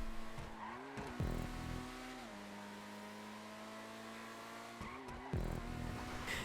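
A Benefactor Krieger sports car in a racing video game screams through corners, its engine revving high with rising pitch and gear-shift drops, and tires squealing as it slides, loud and close with no talking.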